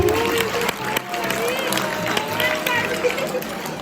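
Schoolchildren at a Children's Day celebration clap for themselves, a scattered round of claps amid cheerful kids' voices and crowd hubbub.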